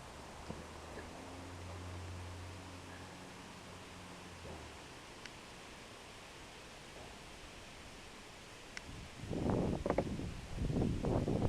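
Wind blowing outdoors on a mild sunny day, a steady broadband rush buffeting the microphone throughout, with a low rumble early on and stronger low gusts near the end.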